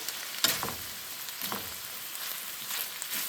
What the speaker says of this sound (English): we're just going to go ahead and cook this until the cabbage is all wilted. Stir it in.